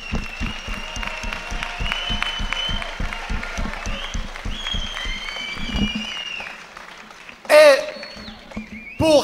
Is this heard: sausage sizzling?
no